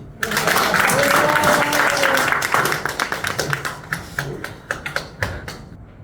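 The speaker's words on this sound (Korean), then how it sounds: "이럴 때는 박수를" Audience applause at a magic show for seniors, a dense burst of clapping that quickly thins into scattered, individual claps fading out.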